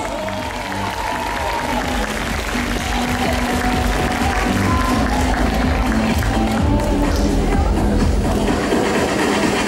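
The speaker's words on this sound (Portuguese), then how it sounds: "Uma salva de palmas!" An audience at an awards ceremony claps for a winner, a sustained burst of dense applause with crowd murmur that stays even and loud from start to finish.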